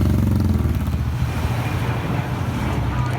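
A steady low engine rumble drones throughout, like a motorcycle running nearby, with wind noise buffeting the microphone.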